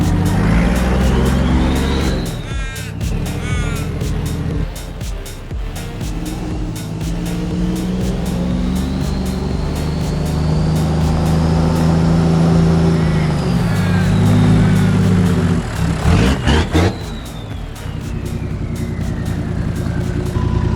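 Toyota LandCruiser 105 series with an FTE setup, engine and exhaust roaring loud and close, revving up and down with a steady rumble throughout.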